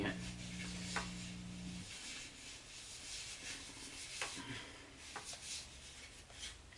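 Rubbing and wiping to clean a part inside a Sony SLO 325 cassette deck, a close, soft continuous scrubbing friction noise with a few faint clicks, no speech.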